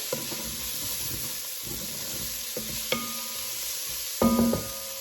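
Seasoned vegetables sizzling in a pan while being stirred for a Swiss steak dinner, a constant hiss of frying with scattered scraping strokes and a sharper clank near the end.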